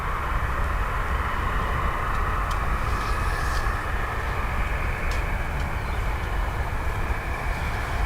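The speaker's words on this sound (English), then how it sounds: "we have an ASL Airlines on taxi behind me" An ASL Airlines jet taxiing at Dublin Airport gives a steady, loud engine roar that holds constant with no breaks and no talk.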